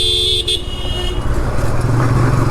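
A TVS Apache RTR 160 motorcycle engine running loud and close, a low throbbing rumble that grows rougher as it revs, with a short horn-like tone near the start.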